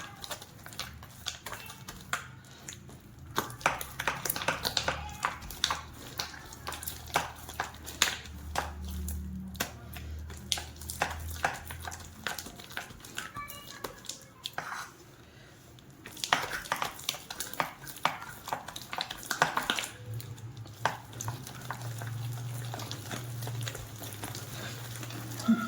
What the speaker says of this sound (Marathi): चांगलं हाताने फेटून घ्यायचे, एकाच दिशेने फेटायचे।